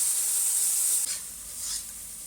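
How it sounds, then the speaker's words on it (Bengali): Mutton curry with papaya and potato frying in a pan as turmeric and Kashmiri chili powder are stirred in. A steady bright sizzle fills the clip, shifting briefly with each stroke of the spoon. "সামান্য একটু হলুদ দেব একটু কাশ্মীরি লঙ্কা দেখ এইটা আমি মিশিয়ে নেব"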